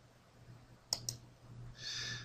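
Two quick, faint mouse clicks sound close together in a quiet room while a PowerPoint setting is selected, followed by a soft brief rustle.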